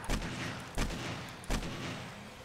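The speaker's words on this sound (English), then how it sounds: "we'll break out the old AK" AK rifle fired in the zombie survival game 7 Days to Die during a snowfall horde night, three sharp booming shots spaced evenly about three-quarters of a second apart, each trailing into a rumbling decay.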